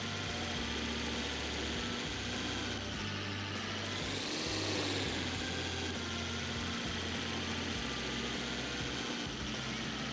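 A vehicle engine in the American Plains Mudding farm game is held at a steady RPM to charge the battery, making a constant droning hum with a slight swell partway through.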